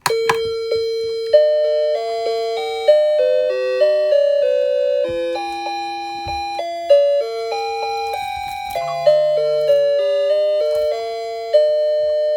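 A table-top mantle clock plays Für Elise in bright square-wave electronic tones, a steady melodic line of beeping notes ringing clearly and loudly for several seconds with no talking.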